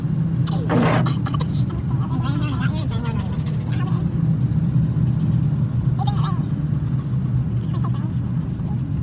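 A car driving on the road on a coast-to-coast trip, its steady low engine and road rumble running continuously throughout, with people talking over it.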